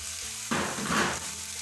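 Vegetables dropped into a hot wok for a take-away style chicken stir fry, a sudden loud sizzle and frying hiss that swells then settles, close by, with no speech.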